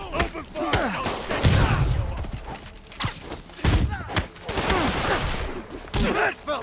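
Bursts of cartoon gunfire in a Spider-Man animated series shootout, sharp repeated cracks and thuds coming in irregular volleys, loud and close, with scattered voices and other action effects between the shots.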